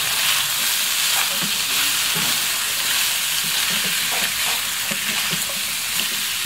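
Chicken gizzards with bay leaf and black pepper fry in a pan, making a steady, loud, close sizzle with scattered stirring scrapes and no voices.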